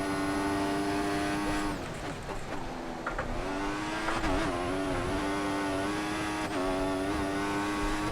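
A Formula 1 car engine in the video game F1 2014 drones at high revs with a sharp turbo whistle riding on top, the pitch dropping and rising again as the car shifts.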